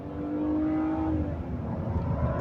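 A 2011 Hyundai Azera 3.3 V6 accelerates hard to overtake, its engine note rising steadily from inside the car amid road and wind noise, loud and continuous.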